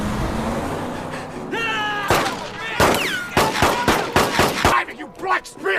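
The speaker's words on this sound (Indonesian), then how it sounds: "Felix dan Flip mengejar Ron dengan menembaknya" Gunshots fired during a film chase scene in which two police officers shoot at a fleeing man: a burst of loud, sharp cracks in quick irregular succession, preceded by a short vocal sound and background noise.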